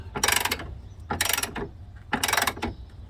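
Ratcheting wrench tightening the battery hold-down screw on a Chevy truck, three separate bursts of rapid clicking close by, each about half a second long with short pauses between.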